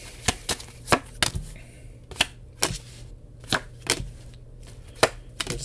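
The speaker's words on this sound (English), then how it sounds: "No matter what way you shuffle, the cards are always on point." Tarot cards being shuffled by hand, heard as a series of crisp, separate snaps and riffles at an uneven pace, fairly close and with nothing else sounding.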